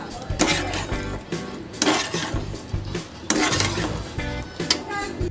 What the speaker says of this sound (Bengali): কচু আলু চিংড়ি মাছ সব এবার একসাথে আমি কষিয়ে নেব।